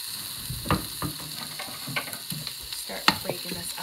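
Breakfast sausage browning in an Instant Pot, with a steady soft sizzle under irregular scraping and clicking as a spoon breaks the meat apart against the metal insert, fairly close and moderately quiet.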